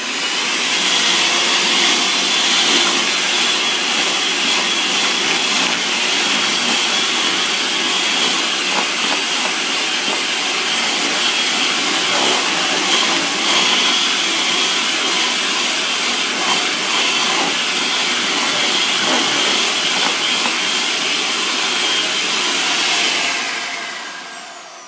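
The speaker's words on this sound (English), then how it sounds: "using the same beaters, take them over to the other bowl and mix the dry ingredients until just combined" An electric hand mixer with beaters whirs steadily in a bowl of dry sponge cake ingredients, a loud continuous motor drone running almost unbroken before cutting off at the end.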